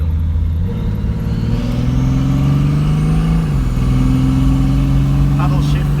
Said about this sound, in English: Let's have a listen to that exhaust tone.